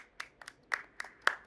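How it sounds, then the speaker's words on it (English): A few scattered hand claps, about five sharp, separate smacks at uneven intervals, close and fairly soft, with no voices. "No, why are you clapping at that?"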